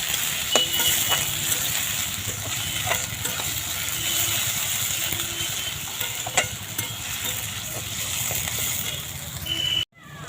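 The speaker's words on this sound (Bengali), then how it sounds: "আলুর দমের জন্য এই পেঁয়াজটা লাল করছি" Onions frying in a pan until browned for aloo dum, a steady sizzle with occasional stirring clatters running throughout before cutting out abruptly near the end.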